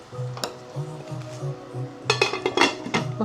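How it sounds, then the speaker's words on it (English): A spoon stirring a garlic dish in a pot, giving soft scraping and a scatter of light metallic clinks that grow busier toward the end, quiet and close with no talking. "Give that a good stir."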